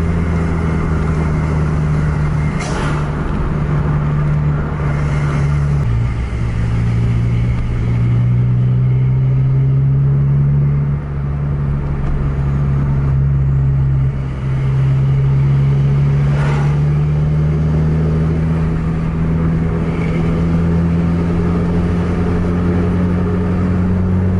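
PSMS Medan team bus with Gunung Mas coachwork on a Hino R260 chassis accelerating on the road, a loud, steady engine drone climbing in pitch through several gear changes, close and continuous without talk.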